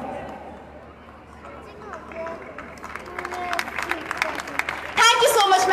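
Audience at a school annual day award ceremony breaking into applause: scattered claps grow amid crowd murmur and talk, then a loud dense burst of clapping erupts near the end.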